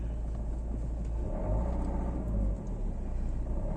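A car pulls out of a road junction, its engine rumbling steadily from inside the cabin with a brief surge of acceleration partway through and no talking.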